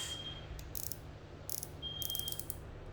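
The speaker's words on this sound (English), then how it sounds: "Hear the clicking noise from this one." A Shimano Calcutta Conquest 21 baitcasting reel clicks in short, fast ratcheting bursts, with three or four quick rattling runs separated by pauses, close and fairly quiet.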